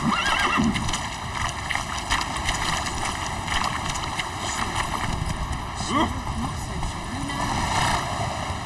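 Roach the horse in The Witcher 3 gallops with rhythmic hoofbeats and lets out a loud whinny, against a wash of background ambience, with a voice heard over it.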